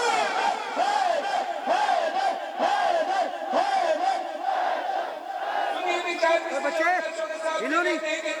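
Mourning congregation at a Muharram gathering in an imambargah in Kotla Hassan Shah chanting religious slogans together, a loud rhythmic chorus of repeated calls rising and falling in steady waves, close and full throughout.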